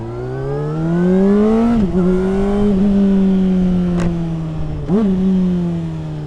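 A Honda car engine hums steadily up close, its tone rising and falling gently as it revs and drives, with a couple of brief pitch dips along the way.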